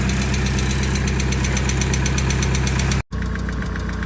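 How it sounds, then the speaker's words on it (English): A supercharged Mazda MX5 engine fitted into an MGB, running on standard fueling, idles with a loud, close, steady knocking drone; the sound cuts out briefly near the end, then resumes. "It's back to running happily with the standard fueling and the supercharger on there."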